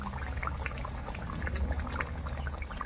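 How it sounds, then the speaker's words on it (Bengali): Raw mustard oil poured into a hot cooking pan gives a soft, steady, low-level pour with faint crackle throughout, and no one speaks. "এখন দেবো আমি একটু কাঁচা সর্ষের তেল, আর কাঁচা সর্ষের তেল দিয়েই নামিয়ে নেব।"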